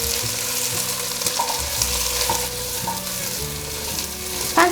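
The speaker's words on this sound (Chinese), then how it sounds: "快速翻炒。" Shiitake mushrooms, tofu skin and carrots stir-fried quickly in hot oil, giving a continuous close sizzle with scraping and tossing sounds, no voices.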